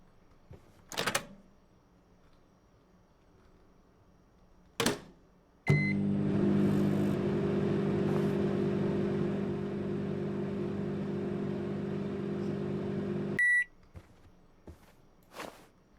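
A microwave oven heating a potato in a video game kitchen: a door thud, a beep, then a steady low electric hum for about eight seconds ending with another beep and clunks.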